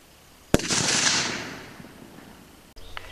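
A cast bullet load fired at a target gives a single sharp, loud report followed by a rolling, fading echo tail. A faint click comes near the end.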